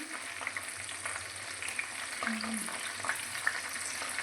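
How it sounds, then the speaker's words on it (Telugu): Dried red chillies fry in a pan with a steady close sizzle and a few faint clicks of stirring, and no one speaks over it. "అది మంచిగా వేగినాక అరగంటకి ఇంకా 2 ఒట్టిమిరపకాయలు కూడా వేయాలి ఇక్కడ సైడ్ అన్నమాట"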